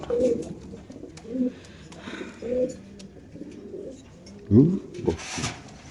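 Racer pigeons at a pigeon farm coo repeatedly in low, throaty phrases, several calls spread over a few seconds and one louder coo close by, with faint voices in the background.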